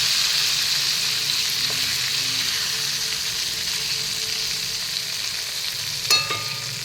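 Vam fish sizzles steadily in a hot pan, a continuous bright crackle throughout, with a brief clink of utensil near the end and no voices.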